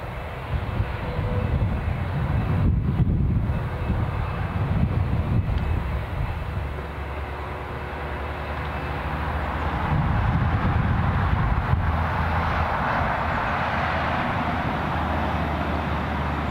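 A KLM airliner taxiing at Newcastle International Airport: a steady, fairly loud jet engine rumble and whine that holds throughout, swelling slightly toward the end, with some wind buffeting on the microphone.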